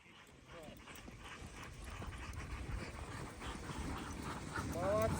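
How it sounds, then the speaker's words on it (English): Sled dogs pulling a dog sleigh approach across snow near Lake Lovozero in the Murmansk region, panting and yelping faintly at a distance and growing louder toward the end over wind and outdoor noise. "The dog sleigh on its way to meet us."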